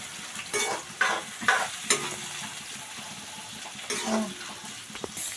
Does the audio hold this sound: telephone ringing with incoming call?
no